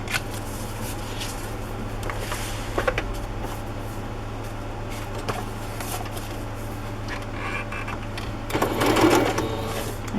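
A sewing machine stitches a matchbook notebook for a junk journal, a steady mechanical running hum that goes on throughout with a few clicks and a louder burst of handling noise near the end.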